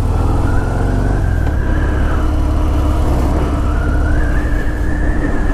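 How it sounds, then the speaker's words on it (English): A 2018 Harley-Davidson Softail Fat Bob with the 114 engine rumbles loud and steady while riding, its exhaust note rising and falling as the throttle changes, with heavy wind noise over the engine. "here we go on the 2018 Fat Bob with the 114 engine."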